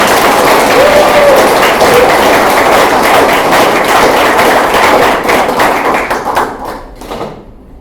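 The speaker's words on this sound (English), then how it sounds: "begin clapping for these four lovely people" Loud, sustained applause from an evening audience at a museum talk fills the room, dense clapping throughout that thins and fades toward the end.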